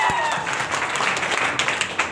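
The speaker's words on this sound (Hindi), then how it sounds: "श्रीवास्तव सर के लिए एक बार जोरदार ताली।" An audience at a lecture hall event claps loudly for an honoured teacher. The applause is dense and sustained, and a few louder individual claps stand out near the end.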